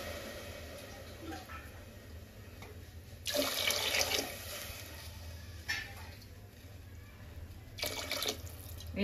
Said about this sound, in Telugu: నెక్స్ట్ కొంచెం కొత్తిమీర యాడ్ చేసుకొని మనం వాటర్ వేసుకుందాం